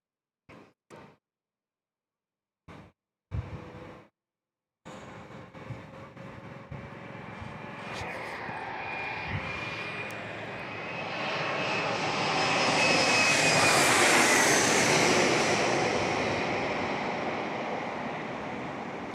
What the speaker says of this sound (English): Alaska Airlines, Horizon Air, E175